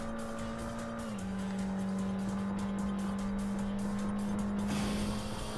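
A racing car in Import Tuner Challenge holds a steady, droning engine note at speed, with a slight pitch drop early on and a brief sharper whoosh near the end as it passes another car, with no talking.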